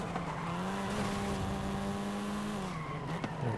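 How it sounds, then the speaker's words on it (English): Racing car in a video game braking hard into a night corner, a long loud tire squeal over the droning engine that fades after a few seconds, with no talking. "There we go, hard braking."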